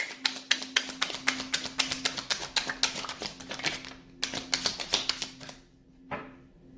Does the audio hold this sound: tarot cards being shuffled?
yes